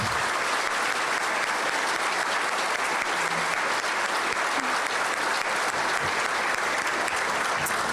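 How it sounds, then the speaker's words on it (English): Sustained applause fills a room at an evening charity wine event, a dense, even wash of many hands clapping steadily throughout with no break, faint voices beneath. "join me in giving them a round of applause for a great evening"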